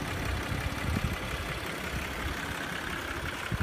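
An SUV engine runs steadily at idle, a continuous low rumble with broadband mechanical noise, close by and alone without talk.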